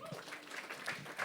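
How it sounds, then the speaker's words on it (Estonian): A studio audience gives Kristel a brief, dense burst of applause, a constant wash of clapping with a voice faintly mixed in. "Teeme aplausi Kristelile."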